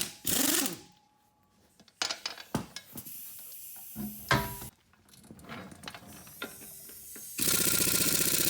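Bursts of a ratcheting impact tool spinning lug nuts off a 2011 Mustang's wheels during a tire change, choppy mechanical rattles and clanks separated by short pauses, ending in a sustained loud whir.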